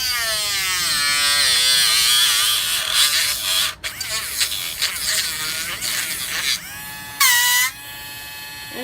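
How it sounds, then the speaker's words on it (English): A Dremel rotary tool cuts a tip off, giving a loud high-pitched whine that drops and wavers as it bites in, with a brief sharp rise near the end. "just take the Dremel."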